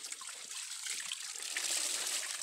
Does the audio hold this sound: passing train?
no